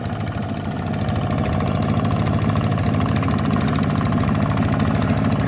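A new ZT155 walk-behind tractor engine runs on its first outing in a rice paddy, a loud, close, steady chugging drone with rapid rhythmic knocking that swells slightly after the first second and holds constant.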